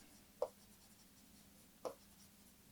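A marker writing on a board during an environment lesson: two brief, faint strokes about a second and a half apart, over quiet room tone with no talking.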